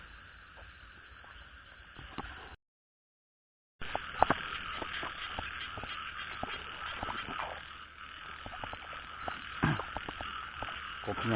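Frogs croaking outdoors at night in a wet field or paddy, a dense chorus of repeated rasping calls under a constant insect drone, with sharper nearby croaks standing out and a short gap of silence early on.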